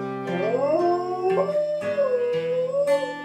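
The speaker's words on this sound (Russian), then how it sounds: "Если собака воет под музыку, то она ей по душе." A dog howls along to music, a long wavering tonal howl with rising and falling pitch and brief yips, loud and close, with no talking.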